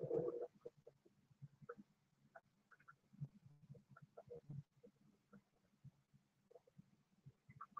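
Stomach gurgles and rumbles from inside a person's belly, recorded close and loud, a busy irregular string of bubbling squelches over about eight seconds.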